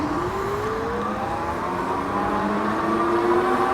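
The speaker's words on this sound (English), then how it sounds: "The motor is a little bit noisy once it starts to accelerate" An electric bike motor on a Bee Explorer Lite whining as the rider accelerates on the twist throttle, its tone rising steadily over loud wind and road rumble, with no talk.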